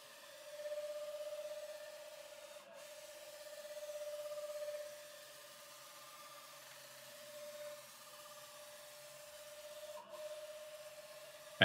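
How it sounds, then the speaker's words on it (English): A CNC machine servo axis on a timing belt oscillates and gives off a faint, steady high-pitched squeak. The whine holds through the whole clip, with soft swells and no talking. "you can already hear how the servo and the axis starts to squeak"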